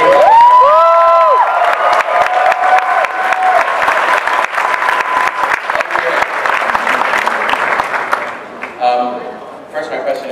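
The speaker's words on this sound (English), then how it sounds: "Everyone cheering." Comic-Con panel audience at San Diego cheering and applauding loudly and steadily, a dense wash of clapping with whoops and shouts throughout, easing slightly near the end as the noise thins out.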